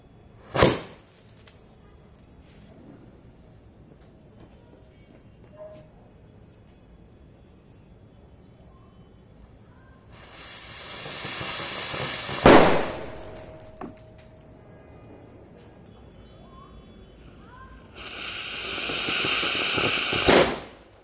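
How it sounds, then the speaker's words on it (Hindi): Diwali firecrackers being tested outdoors: a sharp crack near the start, a hissing spray burst with a loud bang near the middle, and a sustained fountain-like hiss at the end. "अनार चलेगा, ज़ोरदार पटाखे की आवाज़ होगी"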